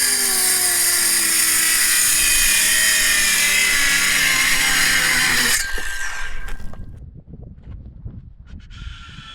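Loud power tool, probably a saw or grinder, running steadily for about five and a half seconds while a truck bed platform and water tank are installed, then cutting off to quiet handling noises.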